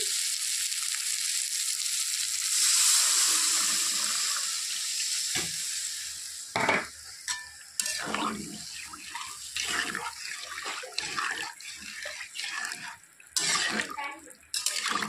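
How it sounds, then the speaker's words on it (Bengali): Broth poured into a pan of frying fish curry, a steady loud rush and hiss of liquid hitting hot oil, then settling into uneven sizzling bursts and clatters. "তো এখন দিয়ে দিব ঝোল।"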